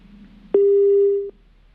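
Telephone line after a call cuts off during a phone-in, giving a single steady tone that lasts under a second and then stops, clear and alone.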